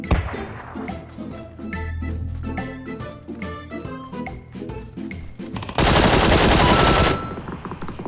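Rapid automatic gunfire in the tactical shooter Valorant, with bursts of dense shots through the first half and a loud sustained volley near the end over game music.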